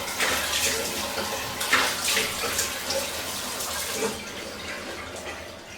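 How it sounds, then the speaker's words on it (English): Water from a bathroom sink tap runs steadily and close by while someone washes their face, a continuous splashing flow with brief louder splashes throughout. "I'll go and wash my face."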